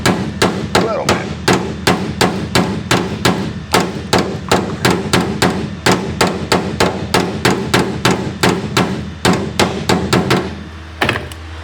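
A hammer taps a metal patch panel into place during rust repair under the battery box of an FC, giving a rapid, even run of close, ringing metallic strikes at about three per second before they stop near the end.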